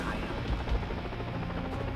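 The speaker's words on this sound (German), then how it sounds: "Da kommt schon wieder der nächste Heli." A helicopter's rotor drone rumbles steadily through a dense, noisy Far Cry 3 Blood Dragon game soundscape, with low thumps mixed in throughout.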